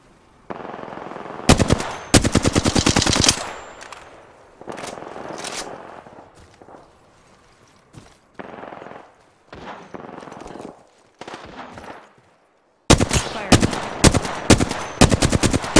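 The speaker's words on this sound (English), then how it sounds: "They spotted me. I'm taking shots." Automatic gunfire in the shooter game Apex Legends, coming in loud rapid bursts separated by short pauses, with a long dense stretch of shots early on and another string of bursts near the end.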